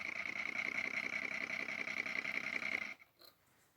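A small electric motor whirs steadily with a high, even whine for a few seconds, then cuts out abruptly, leaving near silence.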